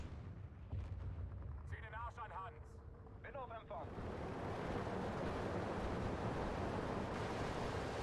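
Bombing strike explosions in the World War II strategy game Steel Division 2, a broad roaring blast that erupts midway and rumbles on continuously, loud and sustained, following a quieter stretch with faint game effects.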